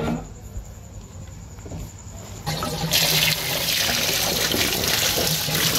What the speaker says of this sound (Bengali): এখন আমি আলু আর আমটা আরেকবার সুন্দর করে ধুয়ে নিব